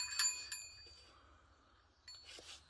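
A dog rings hanging bells, producing a few quick, light metallic jingles near the start and again near the end, separated by a quiet stretch, with no speech in between.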